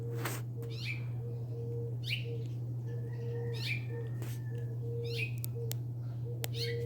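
A bird calls outdoors several times at irregular intervals, short descending chirps heard at a moderate distance over a steady low hum.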